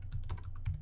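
Quick run of computer keyboard key clicks as a command is entered on a Windows PC, close and fairly steady, with no talking.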